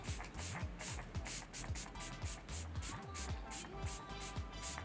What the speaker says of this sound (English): Now I'm going to take this Forget It Fix It spray from Lancome.